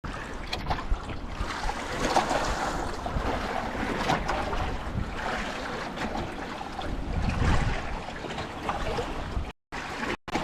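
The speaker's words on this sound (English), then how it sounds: "The wind's bloody picked up. It wasn't supposed to be anywhere like this" Strong wind buffets a houseboat out at sea, with waves washing around the hull in a continuous loud roar of gusts and surf that holds steady, breaking off briefly near the end.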